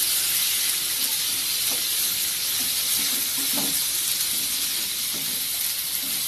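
Spiced masala for chicken curry frying in oil, giving a steady, soft hiss and sizzle throughout with a few faint knocks.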